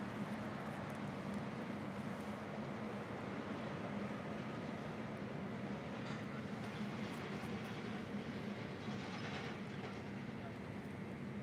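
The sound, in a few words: Korean Air Cargo Boeing 777 landing at LAX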